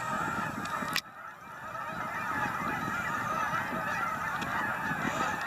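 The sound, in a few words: Canada geese honking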